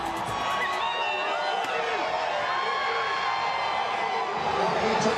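A large crowd at a Dodgers victory parade in downtown Los Angeles roars and cheers continuously, with whoops and shouts rising from a dense, fairly distant mass of people while a nearby voice talks over it.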